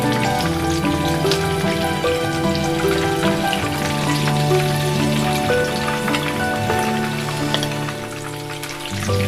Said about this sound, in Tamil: இன்னும் இருக்கிற கொஞ்சம் சிக்கன் கூட நம்ம இதில் எடுத்து ஃப்ரை பண்ணி வச்சுக்கலாம்.